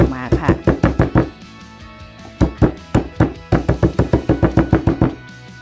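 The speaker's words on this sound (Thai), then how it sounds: "หลังจากนั้นเราก็จะทุบทุบตะไคร้อย่างนี้นะคะ" Rapid bursts of hard pounding thuds from lemongrass being pounded, close and loud, come in two quick rhythmic runs separated by a brief pause.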